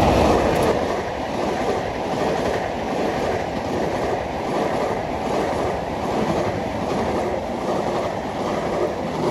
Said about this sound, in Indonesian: Kereta api Gaya Baru Malam Selatan sudah lewat depan kita